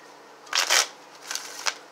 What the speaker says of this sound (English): So I'm going to shuffle the cards a little bit